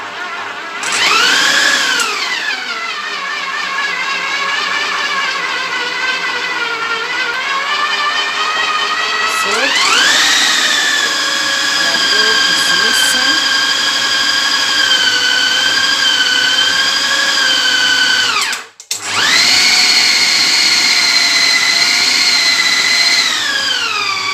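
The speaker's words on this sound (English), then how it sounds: "I'm going to take it off from the food processor." A food processor motor whirring loudly while mixing bread dough for a loaf, rising and falling in pitch as the load shifts, running continuously with a brief stop near the end before starting again.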